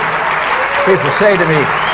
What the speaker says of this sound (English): I know you're trying to applaud